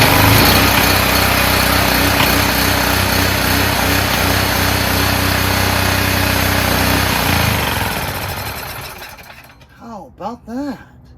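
Generac GP3250 portable generator engine running loud and steady for about eight seconds, then winding down and stopping, followed by a few faint wobbling tones as it falls quiet.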